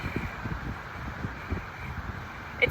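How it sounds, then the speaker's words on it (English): Gusty outdoor wind buffets the microphone in uneven low rumbles across a few seconds on a very windy day, with faint rustling and a short click near the end. "It's very windy here today"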